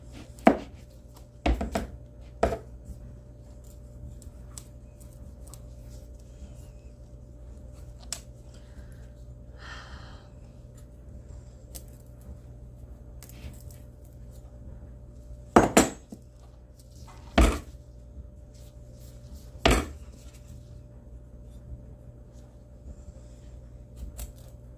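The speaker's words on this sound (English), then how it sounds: "I hate cutting spaghetti squash. This stuff is so hard to cut." Knife chopping through a hard spaghetti squash near its stem: a few sharp, close knocks early on, then three more solid thunks spaced about two seconds apart over a quiet kitchen background.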